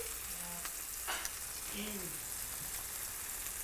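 Skirt steak sizzles on an indoor grill over medium-high heat, a steady crackling hiss that runs through the whole stretch, with brief clinks and soft voices in the background.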